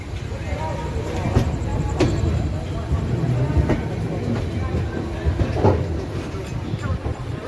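The Puri Duronto Express rolls into Kharagpur Junction with a steady rumble and clickety-clack of wheels over rail joints, heard from inside the coach while people talk.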